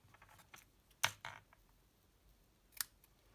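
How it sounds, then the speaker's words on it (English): Scissors snipping paper card pieces for a Christmas wreath card, giving a few faint, sharp clicks spaced apart in a quiet room, two of them standing out clearly. "I'll cut 2 more out, and I will cut those in half"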